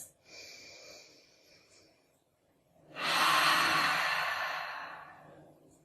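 A long, audible exhale during a midday yoga session, rising after a quieter breath and fading slowly, close to the mic with no talk over it.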